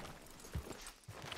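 Horse hooves clip-clopping in the El Rancho RP video game, a few faint soft thuds at an uneven walking pace, quiet and alone.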